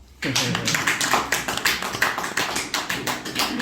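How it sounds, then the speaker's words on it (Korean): An audience at a Korean business lecture breaks into dense, steady applause after a brief quiet start. Many hands clap at once, loud and sustained, with the claps blurring into a continuous crackle that runs to the end. "박수 한번 쳐주십시오"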